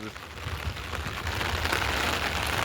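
Steady heavy rain hisses without a break, a dense wash of drops that swells slightly toward the end.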